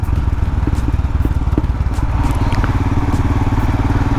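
Royal Enfield Himalayan adventure motorcycle riding on a road, its engine thumping in a steady, loud, continuous rhythm close by, with light clatter over the top.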